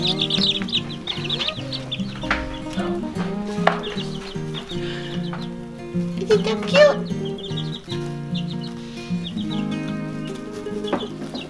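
A flock of young homestead chickens clucks and chirps close by, with many short overlapping calls and a few louder squawks over a steady, busy background.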